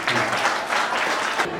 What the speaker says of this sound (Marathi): टाळ्या वाजवून त्यांचं स्वागत करायचं.